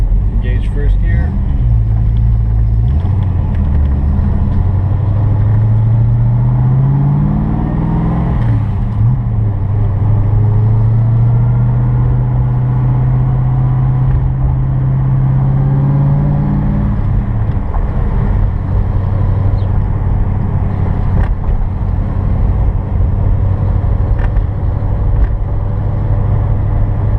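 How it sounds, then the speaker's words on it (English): Engine of a 1985 Saleen Mustang on a test drive, a close, loud drone that rises and falls as it revs up through gears, steady and continuous. "Engage first gear."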